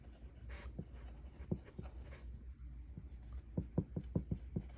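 Pen or pencil writing an equation by hand on paper, quick scratchy strokes and a burst of rapid taps near the end, close and quiet over a low steady room hum.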